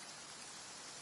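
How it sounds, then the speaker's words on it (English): Steady rain falls in a Genshin Impact squall, a soft, even hiss of drops with no break or other sound over the short stretch. "One's thoughts drift easily while standing alone in the rain."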